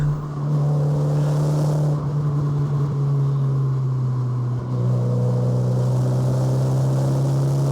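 Car engine droning steadily while driving a road in Europe in the morning, held in one gear with a loud, constant interior hum and slight shifts in pitch as the pace changes.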